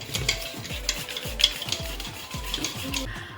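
Batter for crispy fried chicken being stirred in a bowl, a steady series of close scraping, rubbing strokes in a regular rhythm, with no talking.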